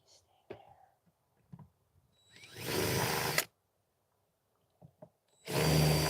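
A power drill whirs in two bursts while working on an old boat, the first about a second long and the second starting later and running to the end, with soft handling noises and quiet breaths in the gaps.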